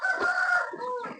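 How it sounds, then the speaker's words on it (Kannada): Tamil Nadu breed rooster on a village farm crowing once, a near, strained call with a rising then falling tail, lasting about a second. "ಇದು ತಮಿಳ್ನಾಡು ಹುಂಜ, ತಮಿಳ್ನಾಡು ಆಟೆ ಬ್ರೀಡ್."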